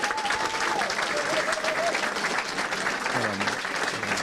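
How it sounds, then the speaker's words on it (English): Crowd applause for a racing team at a 24-hour kart race at Buckmore Park, sustained clapping with a voice briefly heard through it and a tonal sweep underneath. "Massive round of applause."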